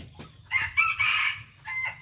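Close by on a farm, a rooster crows loudly in a stretched call while hens cluck in short bursts around it.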